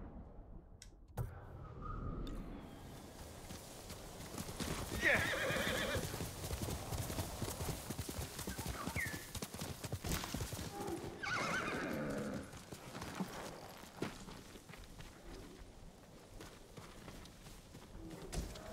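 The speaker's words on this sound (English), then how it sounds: "Good horse, Kage." Hooves clatter in a fast, steady rhythm as a horse gallops in the video game Ghost of Tsushima, with a couple of sharp neighs breaking through partway; mid-distance, fairly quiet overall.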